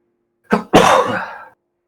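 A single loud, close sneeze: a quick sharp intake followed by a forceful burst, then silence.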